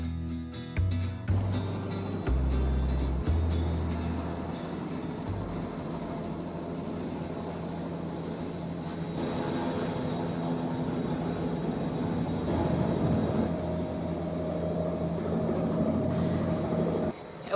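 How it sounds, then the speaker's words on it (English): Helicopters hover over a cherry orchard after rain, a steady, loud, low rotor and engine drone that fills the whole stretch with a throbbing beat early on and a constant roar after, with no voices. "I woke up this morning to helicopters outside my window."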